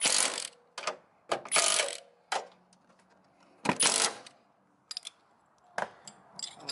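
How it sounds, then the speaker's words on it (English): A torque wrench ratcheting while tightening strut bar bolts on a Subaru, giving short bursts of sharp metallic clicks in an irregular rhythm, close by, with quiet pauses between strokes. "Torque it down on the last setting."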